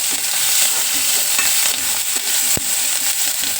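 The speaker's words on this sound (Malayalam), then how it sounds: "കുറച്ച് കഴുകി വെച്ച കറിവേപ്പില ഇതെല്ലാം ഇട്ട് കരിയാതെ നമുക്ക് മൂപ്പിച്ചെടുക്കാം" Washed curry leaves and green chillies fry in hot oil in a pan, a loud continuous sizzle with scraping stir strokes and one sharp clack of the spoon against the pan.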